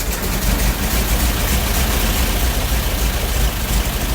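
A 1926 Ford Model T engine runs steadily at close range, a continuous low rumbling chug with broadband mechanical noise and no speech.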